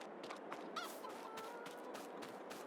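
Chickens clucking around a coop in the Farming Simulator 22 video game, a busy cluster of short squawks and cackles over a steady ambient bed, moderately close, with no talking.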